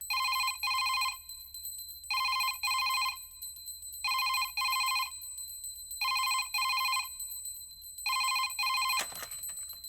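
A telephone rings in a repeated double-trill pattern, five bright electronic bursts in a steady rhythm, loud and close in a quiet room, ending with a click as it is picked up.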